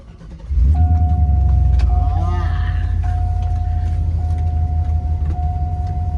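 A 6.0-liter V8 with straight pipe exhaust roars up from idle into a loud, deep, sustained rev and then holds a heavy rumble, with a steady tone and people talking over it.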